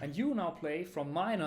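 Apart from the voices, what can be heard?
None of the usual background noises is heard.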